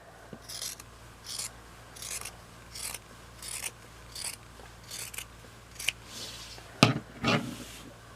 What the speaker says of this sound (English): Now, take your favorite scissors